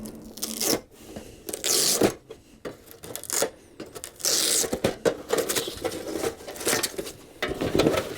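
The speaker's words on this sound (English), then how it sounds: "They come with these nice little Velcro straps to hold it all together." Velcro straps on a camping stove bag for a titanium hot-tent stove being ripped apart in several bursts of tearing, scratchy noise, close up with short pauses and handling clatter between pulls.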